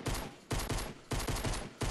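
Gunfire in Fortnite: a rapid fusillade of automatic shots in four dense bursts separated by brief gaps, loud and close, with no voices over it.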